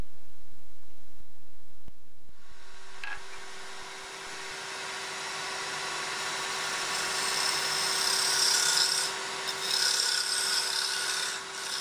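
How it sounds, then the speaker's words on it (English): Spindle roughing gouge cutting a wooden candlestick blank on a lathe, a continuous hissing, rasping shear starting after a quiet lead-in and holding steady at close range. "I'm using the spindle roughing gouge"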